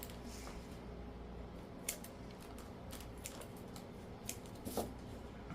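Scissors trimming the edges of a DIY spring craft item, a few faint, sparse snips and clicks spread over quiet background with no talk.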